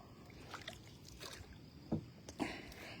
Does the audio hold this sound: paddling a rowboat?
yes